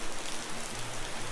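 Rain falls steadily in a dense, even hiss of drops on surfaces outdoors, continuous and close for the whole short stretch.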